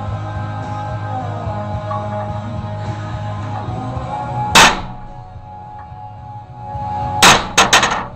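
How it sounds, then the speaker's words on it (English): Sharp metallic hammer taps on a center punch into a brake drum ring out over a steady mechanical hum: one strike, then a pause, then a quick cluster of three. "I'm going to center punch it"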